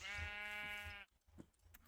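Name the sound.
sheep bleating in a video game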